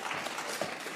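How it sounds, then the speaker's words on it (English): An audience at a congressional hearing applauds in a dense, even patter of many hands, steady and moderately distant. "They're not clapping for you. He thinks they're clapping for him."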